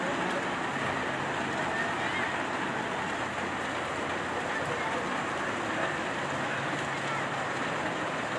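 Heavy typhoon rain falls during a flood along the Tullahan River in Caloocan, Philippines, making a constant broadband hiss that stays even and fairly faint from start to finish, with no pauses.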